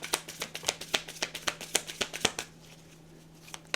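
Tarot card deck being shuffled by hand at close range, a quick run of crisp riffling slaps and flutters that stops partway, leaving quiet room tone and one last soft tap.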